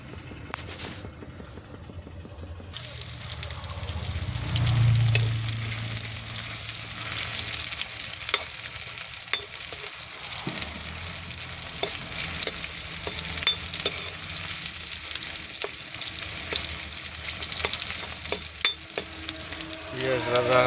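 Onions frying in a pan, a steady broadband sizzle with stirring that runs throughout, briefly swelling louder near the start and then holding an even, close crackle with no talk.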